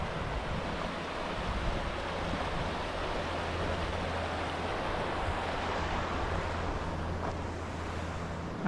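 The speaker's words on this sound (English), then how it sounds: "Let's just check out the river quickly before we head off on up the walk." A river in Tromsø, Norway, flows with a steady, broad rushing wash that stays even and fairly close throughout, with no voices over it.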